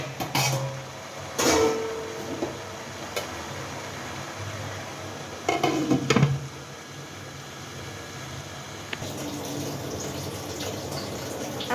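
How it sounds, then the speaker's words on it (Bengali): A lid goes over a cooking pot of pangas fish and Malabar spinach, with two distinct metallic clanks against a low, steady background hiss. "এখন আমি এই যে ঢাকনা দিয়ে ঢেকে দিব।"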